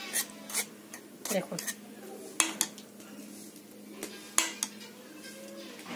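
Tomato puree pressed and scraped through a sieve to strip out skins and seeds for homemade tomato sauce. Rasping, rubbing strokes come repeatedly, with a few sharp metallic clinks, under and between light speech.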